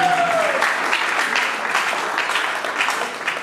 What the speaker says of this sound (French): Les artistes, est-ce que vous pouvez applaudir